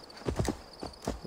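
Horse hooves clip-clopping in Assassin's Creed Valhalla, a few distinct heavy hoofbeats in an uneven gallop rhythm, close and moderately loud over a faint steady background tone.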